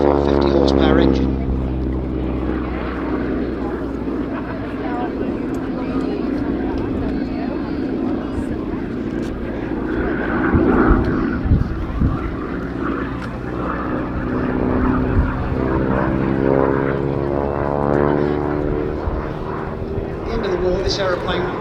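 A Yale training aircraft with a 450 horsepower engine drones past at an airshow, its propeller hum steady and loud with a slowly shifting pitch as it passes, while an announcer talks throughout.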